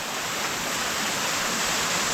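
London Waterfall, Catarata Londres, near San José, Costa Rica, roars as a steady broadband wash of falling water, continuous and even, with no voices.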